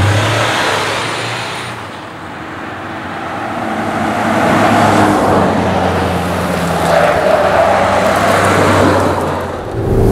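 An SUV engine revs hard on a test drive, a loud, low, continuous drone that swells and eases in pitch with road noise underneath and no speech.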